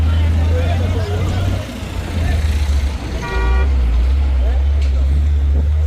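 Heavy road traffic on the way back from the Maha Kumbh at Prayagraj: a loud engine rumble, a brief tonal horn toot partway through, and more distant honks, with people talking over the noise.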